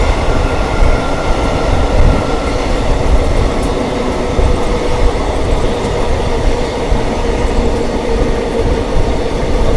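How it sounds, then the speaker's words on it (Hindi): The Howrah Rajdhani Express passes at a crossing beside a summer special train, a loud continuous rumble of rolling wagons with faint clickety-clack that stays steady throughout. "सामने से आ चुकी है अपनी हावड़ा राजधानी।"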